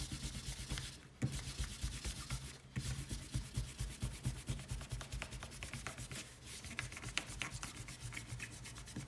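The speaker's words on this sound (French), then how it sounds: "J'utilise une petite gomme mie de pain pour ma part" A kneaded eraser rubbed back and forth on paper, a close, quiet, rhythmic scratchy brushing that keeps going with only brief pauses, and no speech.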